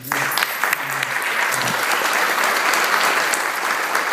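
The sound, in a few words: church congregation applause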